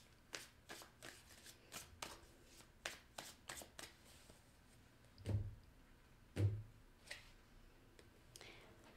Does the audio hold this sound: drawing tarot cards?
yes